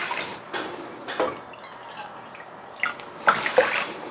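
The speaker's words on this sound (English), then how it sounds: "Then you're gonna add 3 cups of water." Water pours into a pot of elderberries in a few short splashing bursts and trickles, close and moderately loud, with quiet gaps between them and no talking.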